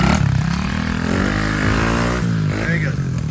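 A Tao Motors DB14 runs after an engine swap, its small engine buzzing loudly up close as the pitch climbs and falls through revs, while people talk over it.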